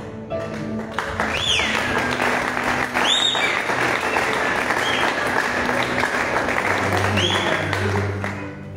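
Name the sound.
audience applause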